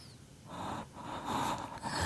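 A man in a car's back seat breathing heavily and deliberately, voiced as an imitation: close, sharp gasping and snorting breaths building over about two seconds.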